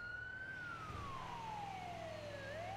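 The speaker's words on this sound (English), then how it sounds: "Here we go with the ambulance." An ambulance siren in a video game, a steady electronic tone sliding slowly down in pitch and then rising again over a constant rumbling engine bed.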